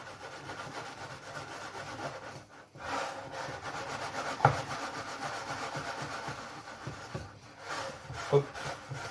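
Spatula stirring flour in a bowl while making baba au rhum dough: steady scraping and rubbing strokes, close and moderately loud, running through the whole stretch with no talk.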